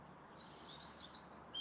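Birds chirping and tweeting at a distance over a soft, steady background hum of traffic in Stockholm, with high repeated calls throughout.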